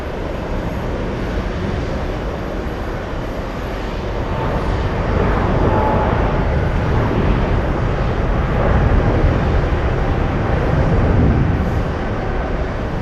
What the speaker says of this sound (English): There you go, 777 on the move.